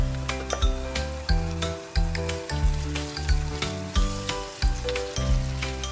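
Garlic and onion sizzling and frying in a pan, steady crackle with rhythmic stirring clinks and scrapes of a utensil, close and fairly loud, no voices.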